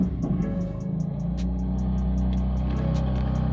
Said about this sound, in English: it does have a quality exhaust on it, and it doesn't sound bad